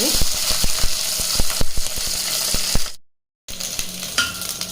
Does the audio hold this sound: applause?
no